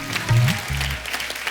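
Audience applause greets a guest at a mushaira, a brief burst of clapping with a short musical sting underneath.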